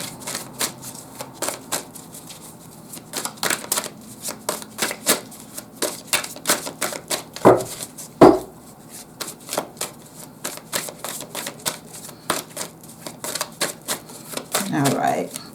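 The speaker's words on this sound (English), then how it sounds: "shuffling was just a little off there, so let's try that again." Tarot cards riffle and slap in quick bursts of shuffling, close and crisp, repeated throughout with a few heavier thumps, while a person talks intermittently over them.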